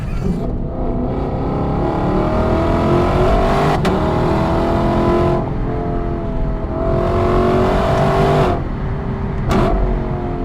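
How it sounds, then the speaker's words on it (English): A 2020 Lexus LC 500's loud, naturally aspirated 5-liter V8 engine revs hard through repeated rising runs, each climbing in pitch before dropping sharply as the next gear begins. "just listen to this V8 scream"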